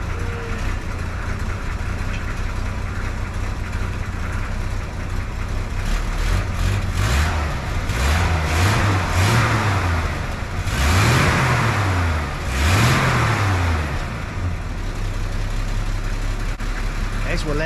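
A 1971 Chevy C10 engine on a newly installed fuel system idles steadily on a cold morning, nearby and constant, and the revs are bumped up in several short rising-and-falling swells.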